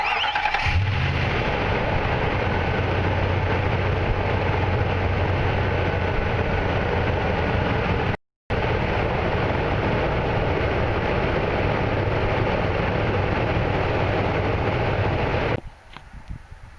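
Nissan Titan engine cranking and then running in a steady loud idle during a battery cranking test, continuous for about fifteen seconds with one brief cut in the middle before stopping.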